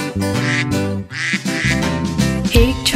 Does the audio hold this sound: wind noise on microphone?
no